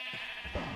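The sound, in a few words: sheep bleating in a video game (Minecraft Oceanblock)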